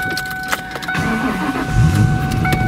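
Inside a stock, unmodified 1998 Ford Mustang Cobra with a V8, the engine cranks and catches, its low rumble building over a few seconds after a chime tone and small clicks, close and moderately loud.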